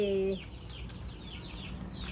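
Chickens kept for laying eggs, a few soft clucks and calls over quiet farmyard background, following a short burst of a nearby voice at the start.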